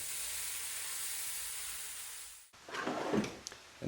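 Onions sautéing in melted butter and avocado oil in a pan give a steady, bright sizzle for about two and a half seconds, then cut off abruptly, followed by a few closer irregular clattering kitchen sounds.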